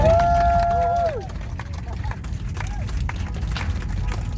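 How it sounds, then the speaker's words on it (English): Passengers on a British Airways flight clap after a smooth touchdown, a dense patter of applause from further back in the cabin under steady engine and cabin roar, with a brief tone chime at the start. "Big round of applause down the"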